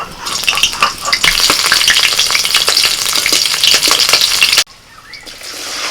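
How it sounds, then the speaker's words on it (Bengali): Okra frying with slit green chillies crackles loudly and continuously, with stirring clicks over the hiss, until the sound drops abruptly to a faint background sizzle. "ঢেঁড়স ভাজা হবে"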